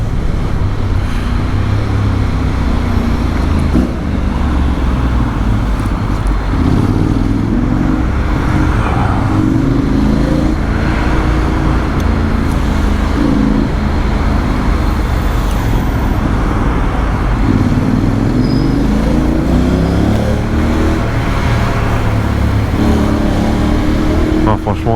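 A custom Honda X-ADV 750 scooter on the road gives a steady engine drone with rising pulls under acceleration and constant wind and road noise, while a rider talks over it.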